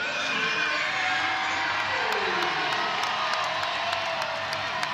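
A home crowd at an East Carolina women's college basketball game against UCF in Minges Coliseum roars and cheers continuously, with whoops and high-pitched shouting filling the arena at a loud, sustained level.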